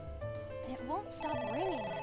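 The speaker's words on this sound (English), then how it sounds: "Just let it ring out. It won't stop ringing." A telephone rings in the video game AI: The Somnium Files, a steady electronic ringtone heard under layered game music with some overlapping sounds.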